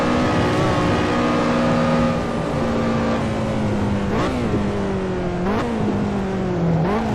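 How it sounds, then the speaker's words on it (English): A BMW 1M accelerating in a racing video game, its engine note climbing steadily with sharp gear-shift dips and rising revs again, loud and continuous with no talk. "The BMW 1M taking off into the distance."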